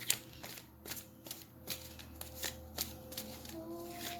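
A tarot card deck is shuffled by hand close up, with repeated crisp riffling and flicking bursts in an uneven rhythm and soft hand handling between them.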